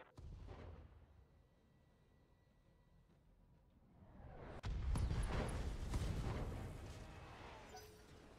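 Mech weapons fire downrange in the video game Battletech, with a sudden heavy boom followed by sustained rumbling blasts and crackle over a low engine drone.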